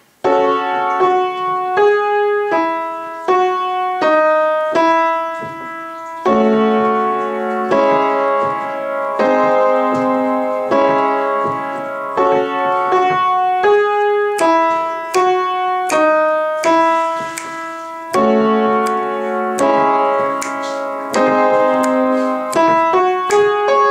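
A piano right hand plays the verse part of a song, repeating chords in a steady looping rhythm, close and clear with no talking.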